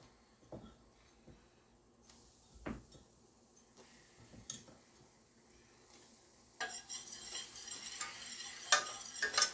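Flour and vegetable oil stirred together in a pan for a roux, quiet scraping and tapping strokes at irregular intervals, growing busier and slightly louder toward the end with a soft sizzle underneath.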